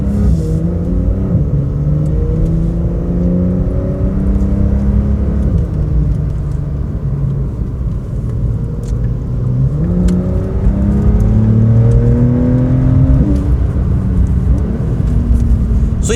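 A Porsche 911 with the Sport Chrono option launching hard under launch control on a public road, its engine note climbing steadily through gear after gear, each shift dropping the pitch before it rises again, loud and close throughout.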